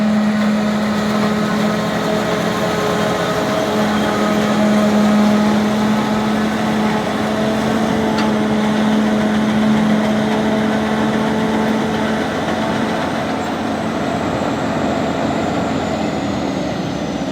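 Steady, loud drone of a silage chopping machine's engine running continuously close by, with a constant low hum and tonal whine throughout, no voices.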